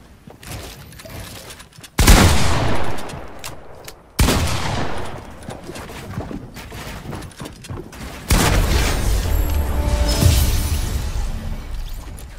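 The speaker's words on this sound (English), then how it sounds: "I threw 30 grenades at him." Explosions from grenades in the video game Fortnite, several loud sharp blasts in sequence with crackling debris and rumbling tails, a final heavier burst continuing into sustained noise.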